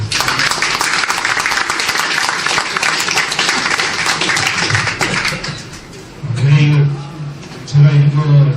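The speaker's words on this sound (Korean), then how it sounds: "격려의 박수 한번 부탁드리겠습니다" Audience applause at a book launch event in Andong fills the room with steady, dense clapping from a crowd, continuing for several seconds before thinning out as a voice begins speaking over it.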